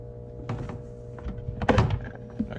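Side cover pulled off a Husqvarna 455 Rancher chainsaw, a few soft plastic thunks and scrapes, the loudest clunk near the middle, close and quiet with no talking.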